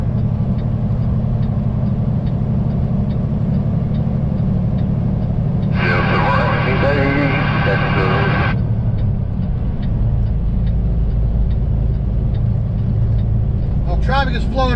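Steady road traffic rolls past as heard from inside a flatbed truck cab crossing a bridge, a continuous loud engine and tire rumble with a brief brighter whoosh midway; someone talks over it.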